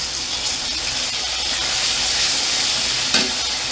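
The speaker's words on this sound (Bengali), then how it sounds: "আমি আদা আর জিরে বাটা দিয়ে দিলাম" Ginger and cumin paste fries in hot oil for a moon dal dish, a steady loud sizzle and hiss running throughout, with a brief stir scrape near the end.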